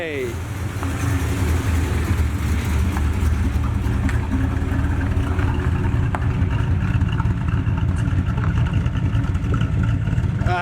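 A 1981 Pontiac Trans Am, revived after 18 years abandoned, rumbles steadily as it is put in gear and driven off, its engine drone loud and continuous throughout with people talking over it.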